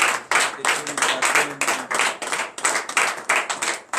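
A church congregation in Benin claps during a morning prayer service. The clapping is dense, loud and steadily rhythmic, with some voices faintly mixed in.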